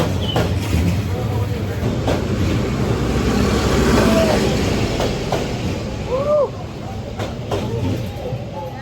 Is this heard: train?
yes